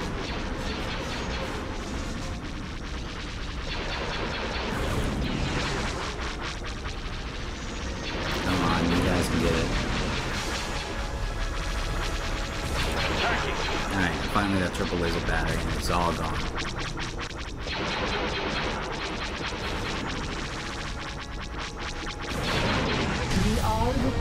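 Space station blowing apart in a Star Wars: Empire at War space battle, with dense continuous blasts, crashes and weapon fire, sustained loud rumble and bursts throughout, mixed with a talking voice.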